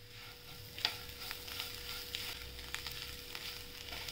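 Red pumpkin bhaji masala with salt, tamarind and jaggery is sautéed in a pan, giving a steady soft sizzle with faint stirring scrapes and one brief clink near the start, no talk.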